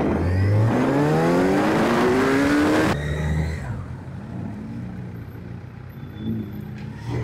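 A superbike engine revs hard and loud on a breakfast group ride, climbing through rising pitch sweeps before cutting off abruptly, followed by quieter road and engine rumble from the group.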